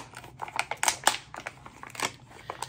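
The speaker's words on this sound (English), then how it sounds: "I'm gonna rip this package apart" A plastic package of silicone baking cups is torn open with crisp crinkling and ripping, irregular sharp bursts at close range, moderately loud, with no talk.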